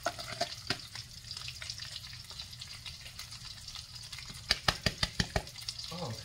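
Bell peppers and onions for a budget beef stew cook in a pan with a low, quiet sizzle, with scattered spoon scrapes and a quick run of louder stirring clacks near the end.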